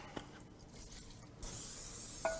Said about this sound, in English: Put a little cooking spray in there just to,